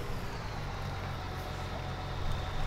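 A driverless tractor engine in Farming Simulator 2019 drones steadily at a low, even idle, faint and unbroken, swelling slightly near the end.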